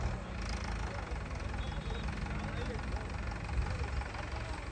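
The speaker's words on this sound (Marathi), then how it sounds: "कशी हे चालवत आहे ट्रॅक्टर" A tractor engine runs steadily nearby on a farm field at sowing time, a loud continuous low rumble with no pauses.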